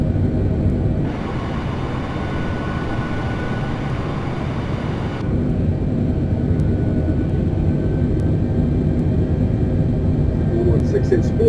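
An aircraft engine spools up in a flight simulator game, a loud low rumble with a brighter whine that swells for a few seconds, then settles into a steady drone, with a person talking over it.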